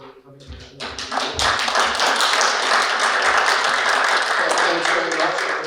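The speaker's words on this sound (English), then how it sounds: "now let's give our round of applause to you for coming" Audience at a municipal housing roundtable meeting breaks into sustained applause, starting a little ragged with low thumps, then swelling into steady, full clapping that carries on to the end.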